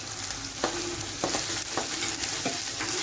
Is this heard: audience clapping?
no